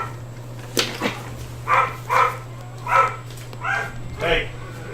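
A house dog barking in another room, a handful of muffled barks at irregular intervals over a steady low hum.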